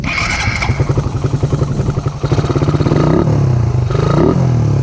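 A motorcycle fitted with a Koso EVO 30mm carburetor idles very low, its close, loud engine chugging in a steady pulse that firms up slightly toward the end.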